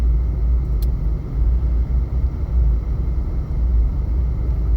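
A car drives in freeway traffic at around 1 pm, giving a loud, continuous low road rumble and engine drone that stays steady from start to finish with no voices.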